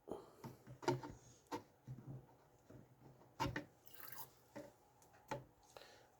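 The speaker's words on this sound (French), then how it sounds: "je vais rincer ma seringue là, pour bien envoyer tout" Water dripping and splashing as a syringe is rinsed, a series of faint, irregular close drips and small splashes in a quiet room.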